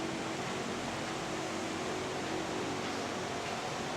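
An air conditioning unit hums steadily and loud, a constant broadband whoosh with a faint tonal drone and no change over the few seconds, with no talking.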